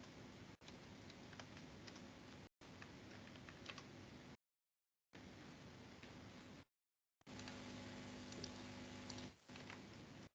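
Quick keystrokes on a computer keyboard, soft and steady, come in short bursts separated by brief silent pauses while text is typed during a design lesson for printing-press work such as wedding cards and pamphlets.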